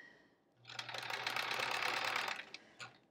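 A sewing machine stitches quilt pieces together in one steady run of close, even whirring that lasts about two seconds, then stops with a brief click.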